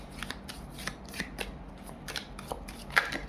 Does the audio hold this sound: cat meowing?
no